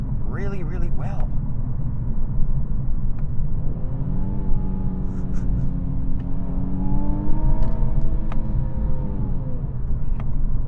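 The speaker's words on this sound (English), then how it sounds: "This engine and this powertrain put down power really, really well" A 2018 Infiniti Q50 3.0t Sport accelerating hard, its engine note rising steadily in pitch through the gears under a constant road rumble inside the cabin.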